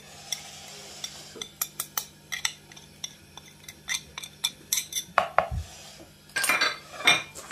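A spoon clinks and scrapes against a metal bowl while salt and turmeric are stirred, irregular taps and rattles growing busier toward the end.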